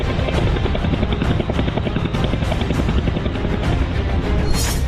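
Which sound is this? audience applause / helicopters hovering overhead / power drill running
helicopters hovering overhead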